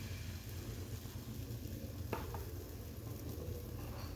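Gram flour batter drips bit by bit into hot oil for motichoor laddu, producing a faint, even frying hiss throughout with one brief click partway through.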